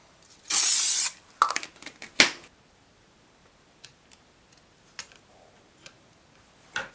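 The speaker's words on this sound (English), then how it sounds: "Quick spray." A quick burst of aerosol spray during assembly of a replica Spitfire blind flying instrument panel, one loud hiss lasting about half a second, then scattered clicks and small handling taps in a quiet room.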